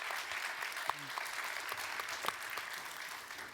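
Audience applause at a European employment and social rights forum session, a steady wash of many hands clapping at moderate distance, with a few sharper individual claps and a faint voice in the background.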